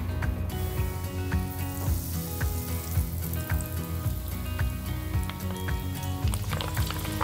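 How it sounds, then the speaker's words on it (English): Cornstarch-dusted rice sizzles in a deep fryer of hot oil, a dense, continuous crackle of bubbling with scattered sharp pops throughout, close and steady with no talking. "I'm gonna take my rice, shake off a little bit of the cornstarch, place it in the fryer."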